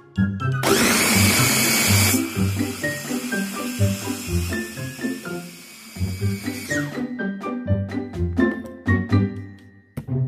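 An electric blender grinds a chicken dim sum mixture with sugar, baking soda and cooking oil, starting with a loud roaring burst, then dropping to intermittent pulsing whirs and clattering as the blade runs in short spurts.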